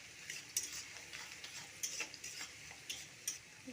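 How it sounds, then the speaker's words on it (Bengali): Chopped onion frying in a pan of oil with dried chilli, bay leaf and black cumin for ghugni, giving a soft, steady sizzle broken by a few light scraping and clinking stirs, fairly quiet throughout. "আমি এরপরে দিয়ে দিচ্ছি কুচানো পেঁয়াজ"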